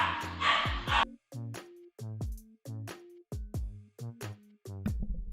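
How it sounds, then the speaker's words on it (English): Several dogs bark at home in a steady series of sharp, roughly evenly spaced woofs, fairly close, with a brief noisy burst at the start. "my dogs were barking"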